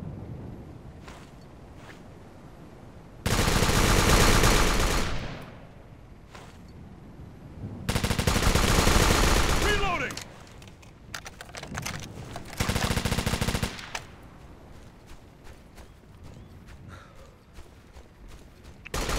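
Bursts of automatic gunfire in the video game Operation Flashpoint Dragon Rising, three long loud volleys of rapid shots separated by quieter stretches with scattered distant shots.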